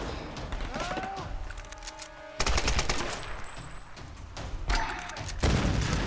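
Enemy gunfire in the Tomb Raider video game, with rapid automatic bursts and scattered single shots rattling loudly in clustered volleys and a short lull between them.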